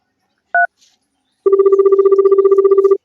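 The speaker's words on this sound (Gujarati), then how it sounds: "એક કામ કરવા દે પેલા મંગાજીને ફોન કરવા દે" A telephone call rings out: a short dialing beep, then a rapid, regular pulsed ringback tone that is loud and close, running alone for about a second and a half.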